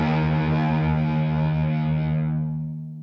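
Electric guitar through a TONEX ONE pedal with extra gain and reverb rings out as one sustained distorted chord, loud and alone, then fades with a reverb tail near the end.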